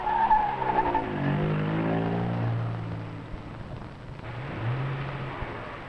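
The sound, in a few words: Citroën test car climbing a steep slope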